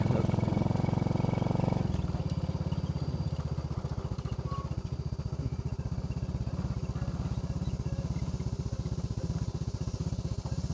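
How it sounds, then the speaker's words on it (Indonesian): A motorcycle engine runs close by with a steady pulsing thrum while riding a rough, damaged trail, shifting tone after a couple of seconds and then chugging evenly throughout. "jadi motor saya bisa melaluinya dengan cukup baik"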